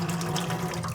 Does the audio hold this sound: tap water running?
yes